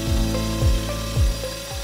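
An electric mixer beating American buttercream frosting, a steady loud motor whir with a rhythmic swooping thump roughly every half second as the beaters cycle through the thick frosting, with no talking.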